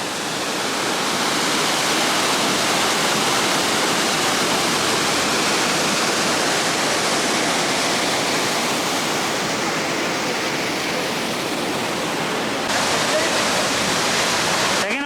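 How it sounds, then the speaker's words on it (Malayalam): A loud, steady roar of falling water crashing and splashing nearby at Athirappally waterfall, a dense continuous wash of noise with no pauses. "ആ സൈഡിൽ നല്ല വെള്ളം തെറിക്കുന്നുണ്ട്"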